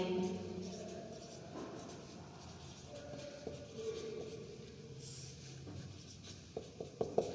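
A pen scratches across paper as a name is written by hand, soft and close, with faint strokes and a few sharper taps near the end, set against quiet room noise.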